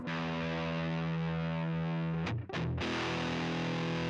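An electric guitar played through a very cheap pedalboard with distortion rings out as a loud, buzzing sustained chord, briefly cut off after about two seconds, then struck again and held.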